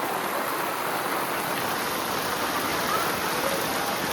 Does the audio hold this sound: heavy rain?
yes